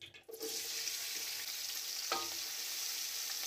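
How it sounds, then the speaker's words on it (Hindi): Onions hit hot oil for chicken nihari, bursting into a loud, steady sizzle after a brief quiet start, close and continuous with a faint stir partway through. "सबसे पहले आपने ऑयल डालना है, इसके बाद आपने प्याज डालने हैं।"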